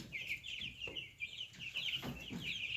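Cobb 500 broiler chicks clucking and peeping steadily in a poultry brooder, a continuous chorus of small high calls at moderate distance with no speech.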